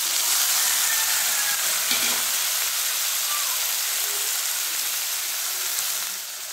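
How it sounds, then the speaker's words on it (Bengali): Chopped onions sizzle and spit in hot oil, a loud steady broadband hiss that fills the whole stretch and eases slightly at the end, with no talking over it. "এইবারে তেলের মধ্যে কাটা পেঁয়াজগুলো ছেড়ে দিলাম"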